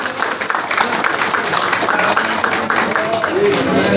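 Audience applause welcoming the chief guest at a Tharu community Maghi festival celebration in Qatar, a steady dense wash of clapping filling the whole stretch at fairly loud level, with a voice speaking over it.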